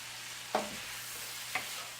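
Rice stirred into shrimp frying in butter in a pan makes a soft steady sizzle, broken by two brief scraping clinks about a second apart.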